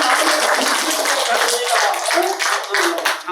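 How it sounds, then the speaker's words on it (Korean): An audience claps together in a lecture setting, a steady burst of applause filling the whole few seconds, with voices murmuring faintly beneath it. "큰 박수를 하는 거지"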